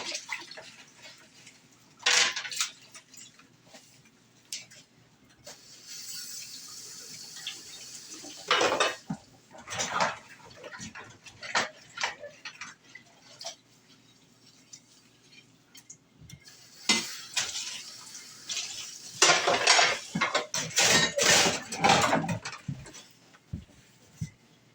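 Dishes are washed by hand in a dish pan at a kitchen sink: water sloshes and splashes, and crockery clinks in irregular bursts, close and fairly loud, with quieter pauses between.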